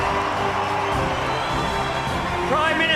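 A crowd cheers and applauds for Prime Minister Modi, a dense, steady roar of voices and clapping throughout, with a few higher whoops rising near the end.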